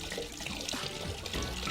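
Glenlivet 12 year Scotch whisky pours from the bottle in a short, close, continuous gurgling splash of liquid that stays steady and fairly loud throughout, with no talking.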